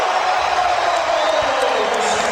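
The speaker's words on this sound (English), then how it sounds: "And the crowd responds." A basketball arena crowd at the 2003 NBA All-Star Game roars and cheers after a Michael Jordan basket, a steady, dense wall of noise with a commentator talking over it.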